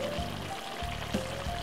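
Bolognese tomato sauce pours from a bottle into a cooking pot, a soft, faint glugging stream with small gurgles over a quiet kitchen background hum.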